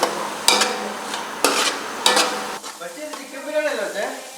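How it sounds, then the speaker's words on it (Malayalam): Onion being stirred in hot oil in a pan for tomato rice: three sharp scraping strokes with a sizzle up close. A voice then speaks over the fading frying sound. "ഇത് നമുക്ക് ചൂടായി കഴിഞ്ഞിട്ട് ഇതിനകത്തേക്ക് സവാള ഇടാം."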